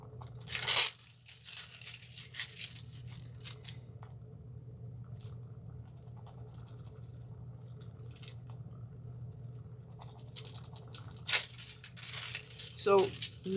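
Thin foil crinkles and tears in short bursts while a stencil flower craft is worked on at a table, close and intermittent, with someone talking quietly in between.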